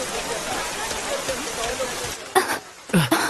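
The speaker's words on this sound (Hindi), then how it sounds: "बारिश रुक ही नहीं रही।" Steady rain pours down as a dense, even hiss throughout, with a couple of louder bumps or splashes near the end.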